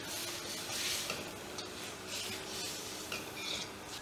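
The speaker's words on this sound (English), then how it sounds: "When the sauce is simmering nicely" Ají amarillo sauce bubbles softly in a pan with a faint sizzle, while a spoon stirs and scrapes through it in slow, quiet strokes.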